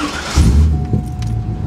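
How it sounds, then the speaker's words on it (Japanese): A supercharged 2000 Chevrolet Corvette C5 coupe, a 450-horsepower custom car, cranks and fires with a loud, short burst, then settles quickly into a steady humming idle. "じゃあちょっとエンジンかけてみます。"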